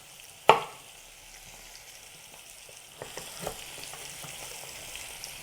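Rice and carrots sizzle and fry softly in a cooking pot while being stirred, with a sharp clink at the start and scattered scraping and sizzling sounds later, quiet and close.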